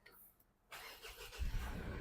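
A Mitsubishi Triton 2.4 Ultra pickup is push-button started, giving a faint, brief cranking whir that settles into a low, steady engine rumble.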